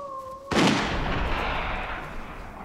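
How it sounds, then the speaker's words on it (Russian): A single sharp gunshot in a crime drama cracks out after a brief high tone, followed by a long rolling echo that slowly fades, loud and somewhat distant. "Кажется, выстрел."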